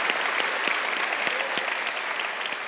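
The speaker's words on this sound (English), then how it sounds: "Let's give her a big round of applause" An audience at a Melbourne talk on culture, criticism and television applauds the guest speaker, a steady wash of many hands clapping at moderate volume with a few sharper individual claps standing out.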